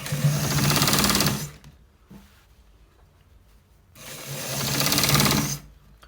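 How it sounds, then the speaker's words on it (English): A sewing machine stitches a shirt collar in two steady, close whirring runs separated by a quiet pause, loud and continuous during each run. "So we are stitching it through"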